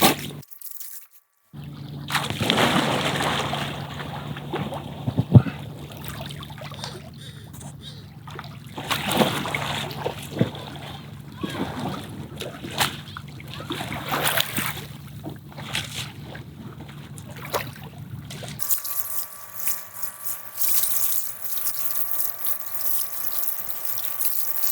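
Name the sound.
paddling an inflatable paddleboard through water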